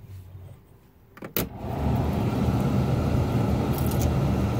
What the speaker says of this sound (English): See if it's blowing the right way.